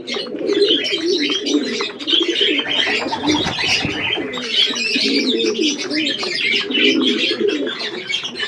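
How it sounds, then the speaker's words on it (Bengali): Pigeons, including a chocolate-coloured one and a local domestic pigeon, cooing in steady repeated throaty phrases close by, several birds overlapping with faint chirps. "একটা চকলেট দোমা আছে, একটা দেশি পায়রা আছে।"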